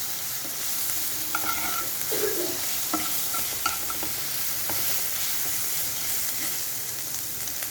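Tomatoes frying in hot oil for an egg curry, a continuous soft sizzle with a few scattered clinks and scrapes as the pieces are turned in the pan.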